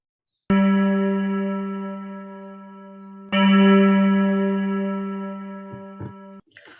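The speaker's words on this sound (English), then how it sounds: "The bell swung softly at first, then all the bells in the house rang loudly" Bells clang in a staged theatre effect for a house in A Christmas Carol: two loud, sustained metallic strikes ring out and slowly decay, followed by a few quieter clinks near the end, with no voices.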